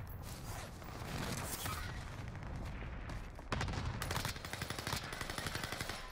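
Marco 5 gunfire in Warzone rattles in fast, sustained automatic bursts, loud and close, with a dense stream of rapid shots intensifying midway through.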